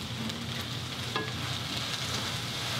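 Bean sprouts and garlic leaf being stir-fried for Pad Thai, a steady loud sizzle and hiss from the pan without any talking.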